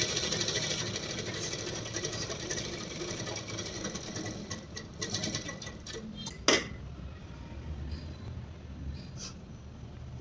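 A sewing machine runs steadily while stitching a pillow cover, a continuous close whirring hum with a brief clack partway through and a slight change in tone near the end.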